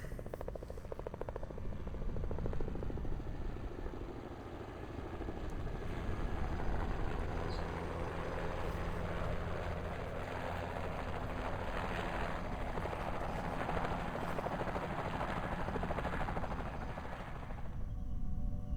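A helicopter in a video game drones steadily with a dense rotor buzz and engine hum, holding at a fairly loud level throughout and cutting off near the end, with no talk over it.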